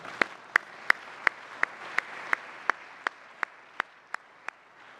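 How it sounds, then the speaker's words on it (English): A sparse round of applause at an awards ceremony, made of single sharp, evenly spaced claps, roughly three per second, standing out clearly against a quiet room. "I'd like you all to please join me in thanking them with a round of applause."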